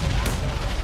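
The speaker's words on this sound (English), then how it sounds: "Ayala cooking the last nade back, dashes it into Nigma" A grenade explosion in the PUBG Mobile video game lands as a brief, loud, broadband blast with a deep rumbling tail, heard under live esports commentary.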